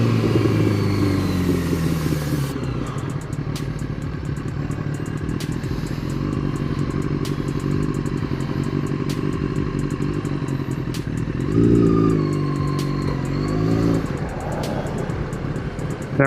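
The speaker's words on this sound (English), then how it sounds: "My bike is just loud." A loud motorcycle engine runs steadily in traffic for the whole stretch, rumbling and clattering, with one brief rise in revs near the end. No one speaks.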